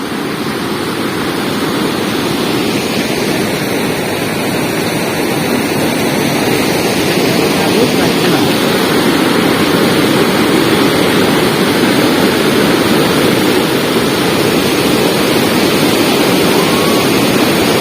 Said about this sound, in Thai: น้ำไหลแรงมากนะครับ